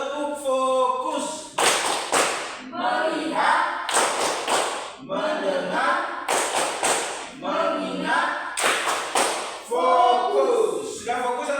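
A classroom of children claps the 'tepuk fokus' focus routine in sharp rhythmic bursts, with chanted words in Indonesian between the clap groups, close and lively throughout.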